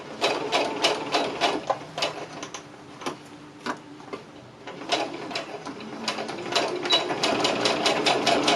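A domestic sewing machine stitches fabric for a scrunchie, sending out rapid mechanical ticking in quick bursts with brief pauses, close and clear, including a backstitch.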